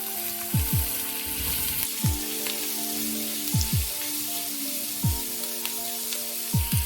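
Small onions and curry leaves fry in hot sesame oil, giving a steady close sizzle. Repeated sharp knocks of a utensil against the pan punctuate the frying, and no voices can be heard.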